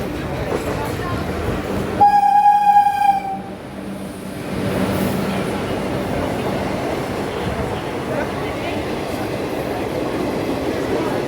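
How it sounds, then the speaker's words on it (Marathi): A train horn blasts for about a second, followed by the steady rumble of a train rolling past, with faint voices in the background. "ट्रेन आली"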